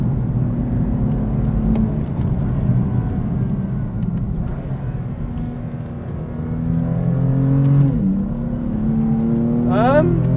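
A high-mileage BMW M4 drives along with a steady, loud engine drone and road roar, the pitch sliding as it shifts and revs up near the end.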